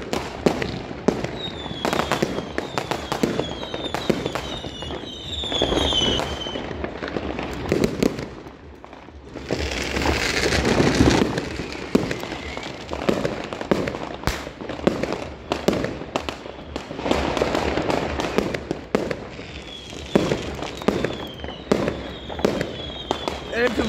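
New Year's Eve fireworks and firecrackers going off around a driveway, a long run of sharp cracks and bangs with whistling rockets and crackling bursts, near and distant, while people talk over them.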